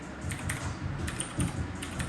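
Fingers tap out a login on a computer keyboard, a quick irregular run of close, crisp key clicks over a low room hum, with no one talking.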